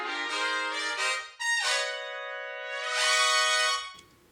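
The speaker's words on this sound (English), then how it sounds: "Right, it sounds like trumpets kind of in a room." Trumpets with an office-room reverb, bright sustained brass notes and short phrases that sound as if played in a nearby room, fairly loud and alone without talk.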